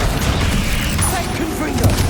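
Confringo fire spell blasts in Hogwarts Legacy, heard as dense, booming explosive bursts that crowd the whole short moment amid busy combat game noise.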